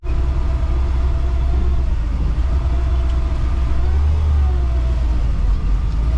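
A 1971 Ford Bronco drives along with a steady, loud low engine rumble and road noise throughout, the engine note rising and swelling slightly partway through.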